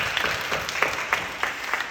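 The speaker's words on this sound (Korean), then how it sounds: "우리 박수로 격려해 주시고 고맙습니다." A church congregation applauds during an evening worship service at Incheon Full Gospel Church, scattered hand claps blending into a steady, moderately loud patter that fills the room.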